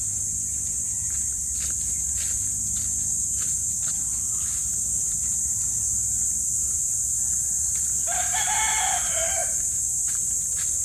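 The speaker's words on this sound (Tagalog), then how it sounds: "Gising na sila mga manok natin." A Rhode Island Red rooster crows once in the middle distance while hens cluck sporadically on a small farm, over a steady high insect-like hiss and low background hum.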